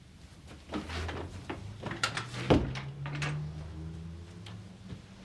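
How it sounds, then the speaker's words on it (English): A door in a police station office is pushed shut, a single solid thump landing near the middle of a quiet room with faint ticking and low background hum around it. "Shut the door."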